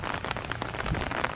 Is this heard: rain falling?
yes